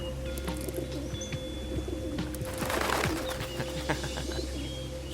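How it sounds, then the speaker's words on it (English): Pigeons coo softly while being fed birdseed, with repeated low murmuring calls and light chirps against a steady background hum, no talking. "So, you enjoy feeding the pigeons?"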